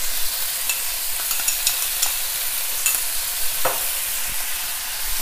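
Spare ribs frying with fish sauce and five spice, a bright, close sizzle with scattered spoon scrapes and taps over a few seconds.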